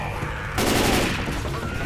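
Gunfire in the video game Die Screaming II, a sudden loud burst of shots starting partway through and continuing densely to the end, with a player's voice faintly mixed in.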